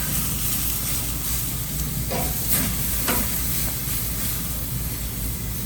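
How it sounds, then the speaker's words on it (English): Tri tip fat sizzling and dripping onto a charcoal fire, a continuous close hiss of frying with a few sharper pops and spits as drips hit the coals. "See that fat is starting to render down and drip into the fire here."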